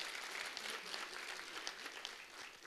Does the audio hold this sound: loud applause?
yes